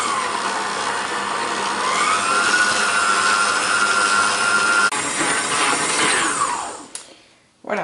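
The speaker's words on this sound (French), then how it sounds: "Et on va mélanger pendant environ 5 à 10 minutes." A stand mixer kneads soft English muffin dough after very soft butter has been added, a steady loud whirring motor hum that runs continuously, shifts in pitch partway through, then cuts off near the end.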